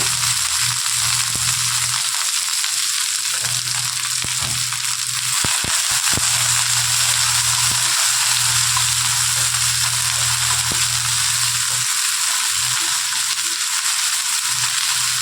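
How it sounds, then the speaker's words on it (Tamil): Okra sautéing in a hot dry pan for a curd-based dish, a steady loud sizzle and crackle running throughout with scattered clicks and stirring scrapes, no talking. "இப்போ நம்ம எடுத்து வச்சுருக்க வெண்டைக்காயை இதில் போட்டு நல்லா வதக்கிடலாம்"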